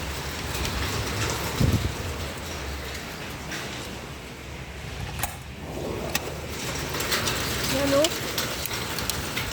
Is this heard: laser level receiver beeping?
no